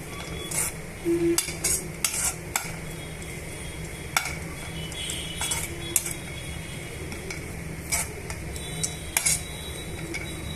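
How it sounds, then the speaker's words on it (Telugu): Dry fruits frying in ghee in a pan for semiya payasam, with a soft sizzle under repeated metal clinks and scrapes of a spoon stirring against the pan, close and alone. "ఇప్పుడు డ్రై ఫ్రూట్స్ అన్నిటినీ కూడా ఈ కీలో బాగా వేయించేసుకోవాలండి"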